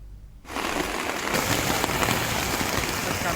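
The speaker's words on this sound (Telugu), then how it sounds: "కాసేపు కుండపోతగా వర్షం కురుస్తోంది." Heavy rain pours down steadily on the hills of Tirumala, a dense close hiss that starts abruptly after a quiet moment and holds loud and constant, with no talking.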